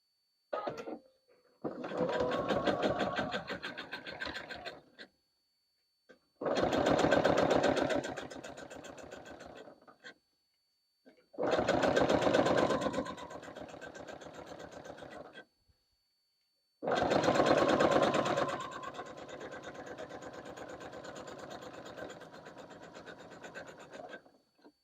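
A sewing machine topstitches a fabric project bag in four long, steady runs of a few seconds each, separated by brief pauses, its motor hum and needle chatter loud and close with no talking over it.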